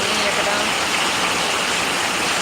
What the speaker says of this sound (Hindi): कल से ही पानी गिरा है यहाँ पर।